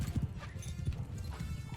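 Horse hooves clop in a steady rumbling rhythm on a Bannerlord battlefield in the Realm of Thrones mod, with a brief neigh mixed into the dense low din of mounted movement.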